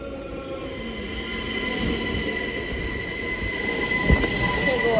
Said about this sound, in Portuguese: Chegou, agora vou pegar o trem.